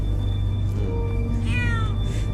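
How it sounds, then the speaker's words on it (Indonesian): A cat meows twice in a tonal, rising call and then a higher, harsher cry, close by over a steady low background hum. "Jauhkan kucing itu!"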